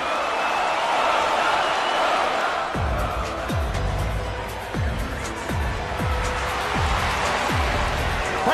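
A capacity arena crowd roars steadily before a UFC heavyweight bout between Frank Mir and Mirko Cro Cop, a dense, loud wash of cheering that continues under repeated low thumping beats from about three seconds on.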